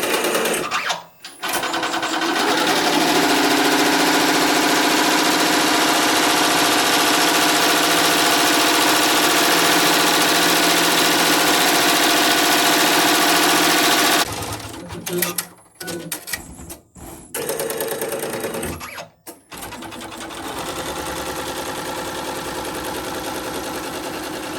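An embroidery machine stitching a design onto a baby blanket runs with a loud, steady mechanical whir and needle rattle, then stops and starts in short bursts before resuming.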